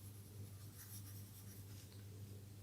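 Pen scratching steadily on paper while working a maths problem on interior angles of a triangle, a soft continuous writing sound close up with no talk.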